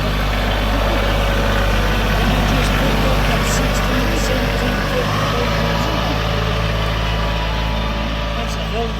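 A Kioti 24 horsepower diesel tractor engine idles steadily and loudly up close with a low, constant rumble, while people talk over it throughout.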